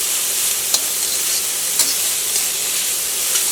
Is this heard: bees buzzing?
no